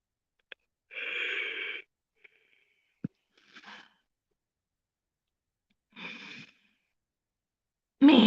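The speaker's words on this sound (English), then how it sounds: "Man, why am I yawning so early?" A man yawns in a few breathy, drawn-out bursts separated by quiet pauses, close to the microphone, with a sharp louder noise at the very end.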